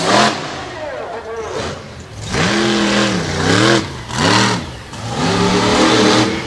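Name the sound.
Brutus monster truck engine revving at a freestyle show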